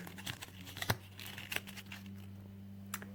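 Gold paper being crumpled and pressed around a cardboard toilet-roll craft base for an Easter egg, close crackling bursts in short irregular clusters over a steady low hum.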